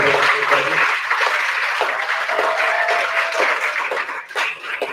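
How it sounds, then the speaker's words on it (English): Audience applause at a 2021 senior recognition graduation ceremony, steady broadband clapping from a crowd filling the whole stretch, fairly loud and close, with brief voices and cheers mixed in. "warm round of applause for Alexandria City."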